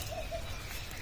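Two short, soft pigeon coos sound faintly among trees such as banyan and peepal at a cremation ground, over a low background hum.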